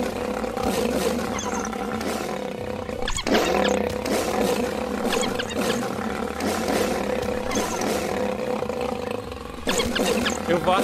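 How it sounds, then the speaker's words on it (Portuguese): Lions fight in the savannah video game Wild Savannah, with deep, continuous roaring and snarling that fills the scene loudly and without a break. "Gente do céu, começou uma briga aqui de leões."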